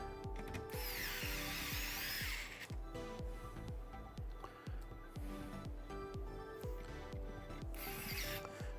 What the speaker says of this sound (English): Last little bits of screws going in.